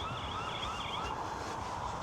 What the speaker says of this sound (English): motion sensors, alarms have gone off